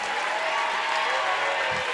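Crowd applause fills a packed high school gym at a girls varsity basketball sectional game, a steady dense wash of clapping and cheering that runs continuously at moderate loudness throughout.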